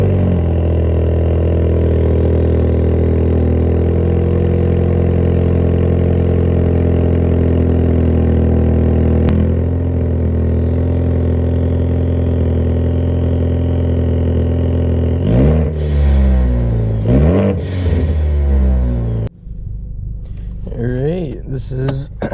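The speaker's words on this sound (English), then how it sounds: "I'm gonna give you guys a cold start at least, and I'll give you at least one pull." A Ford Focus ST engine fires up from cold, a steady loud rumble with a faint talking voice underneath, then revs climb and fall in sharp sweeps before a brief drop.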